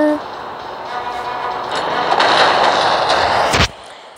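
Anti-aircraft fire in the WW1 flying game Warplanes: a loud, continuous roar of gunfire and bursts that swells in the middle and ends in one sharp, heavy blast near the end.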